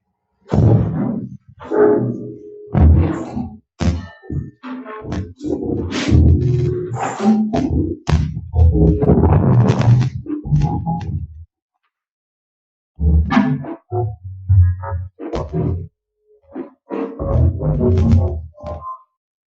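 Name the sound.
speech transformed into noisy abstract sound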